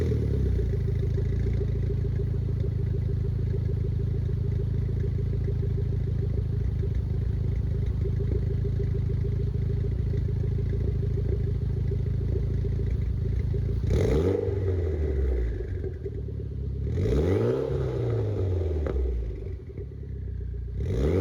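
A Mitsubishi Evo X fitted with a Tomei Expreme Ti titanium exhaust idles with a steady, rumbling burble, then is revved twice in sharp rising and falling blips near the end.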